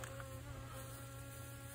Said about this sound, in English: Damn, big ass bee, bitch.